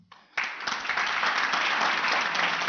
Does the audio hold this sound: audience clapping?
yes